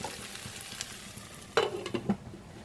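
Okra (vendakka) frying in a pan, heard as a soft, continuous sizzle with a few louder stirring scrapes and clacks near the end, no speech.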